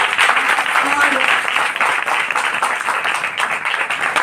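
A congregation at a Palm Sunday prayer meeting in Amritsar claps loudly and steadily for Jesus Christ, a dense sustained wash of many hands running throughout with no pause.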